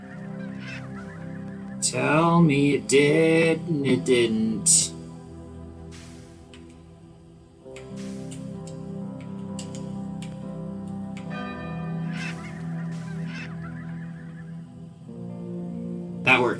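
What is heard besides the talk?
birds honking in video game NEO: The World Ends with You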